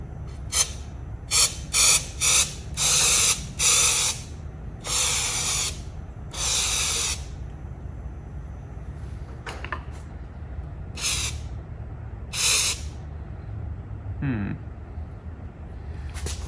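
Harbor Freight powder coating gun spraying in short bursts as a foot pedal is pressed, with a loud broadband hiss in repeated one-second pulses followed by quieter, more sporadic spurts over a steady background hum.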